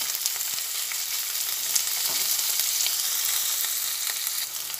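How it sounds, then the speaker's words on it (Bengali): Chopped onion and garlic fry in hot oil, a steady close sizzle with faint scraping as they are stirred, and no voices. "পেঁয়াজ আর রসুনটা দিয়ে ভালোভাবে একটু নাড়াচাড়া করে ভেজে নিচ্ছি।"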